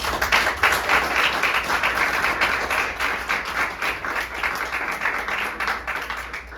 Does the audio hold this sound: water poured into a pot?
no